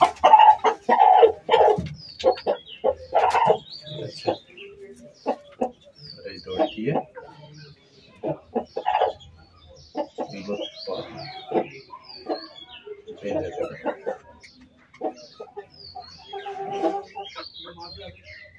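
Chickens clucking in a poultry setting, with scattered bird calls and clucks heard intermittently among frequent nearby talking.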